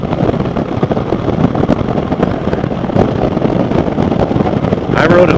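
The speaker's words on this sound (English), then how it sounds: "All you got to do is roll on the throttle on this bike." A 2020 Indian Chieftain Elite motorcycle at speed, its engine droning under heavy wind buffeting against the microphone, loud and continuous, with a voice talking over it.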